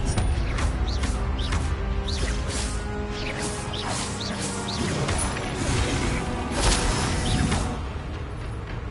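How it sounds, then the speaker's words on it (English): Spell-casting effects in the Hogwarts Legacy video game as the Expelliarmus disarming spell is cast: dense clattering, whooshing magic bursts with sharp crashes and mechanical rattles, loud and continuous throughout, with no talking. "Expelliarmus."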